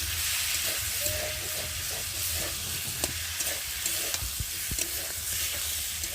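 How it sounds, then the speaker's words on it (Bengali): Potato and eggplant stir-fry with turmeric and salt in a pan beside pabda fish, giving a continuous moderate sizzle. Scattered light clicks and scrapes come from the stirring, and no one speaks. "আর এখন আমি দিয়ে দেবো হলুদের গুঁড়ো আর দিয়ে দেবো স্বাদ অনুযায়ী নুন দিয়ে একটু ভালো করে কষিয়ে নেব"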